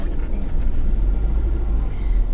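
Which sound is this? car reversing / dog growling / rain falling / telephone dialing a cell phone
car reversing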